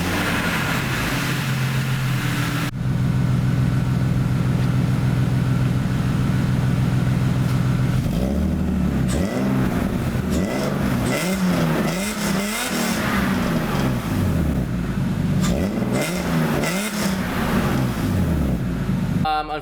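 A BMW E36 325i with new headers and a leaky muffler starts up and settles into a loud, rumbling idle with uneven throbbing pulses and exhaust burble, steady and close throughout.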